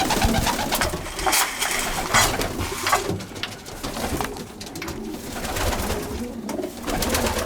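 Pigeons cooing and fluttering inside a loft, a dense, continuous layer of overlapping coos and rustling wingbeats close by with no talking.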